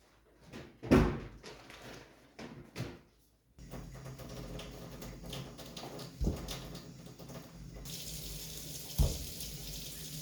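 A kitchen sink tap runs while raw chicken is rinsed, with thumps and knocks at the start before a steady close stream of water and occasional bumps.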